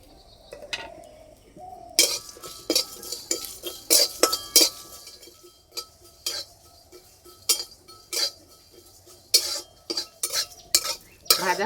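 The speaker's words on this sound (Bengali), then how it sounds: "শুকনো কড়াইয়ে ভেজে নিতে হবে।" Whole cumin, coriander, cardamom, cinnamon and a dried chilli dry-roasting in a dry wok, with a spatula scraping and clinking against the metal in repeated sharp strokes, close and alone.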